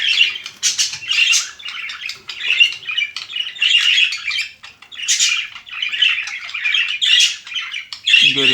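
Pet cage birds squawk and chirp continuously at close range, dense overlapping shrill calls with brief pauses, loud throughout.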